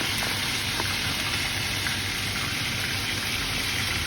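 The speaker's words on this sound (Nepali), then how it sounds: "यसरी पिस गरेर काटेको मासुलाई चाहिँ मैले तातो तेलमा राखिदिएँ" Chopped chicken pieces fry in hot oil. The sizzle is faint and steady, with crackling spits spread evenly through it, and there are no voices.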